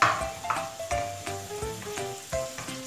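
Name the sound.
pork frying in oil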